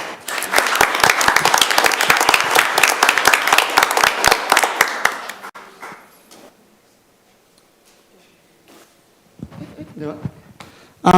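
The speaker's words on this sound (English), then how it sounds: "So we can clap for him on that." A crowd claps enthusiastically for about five seconds at a school board meeting, then the applause fades into quiet room sounds with a few scattered noises.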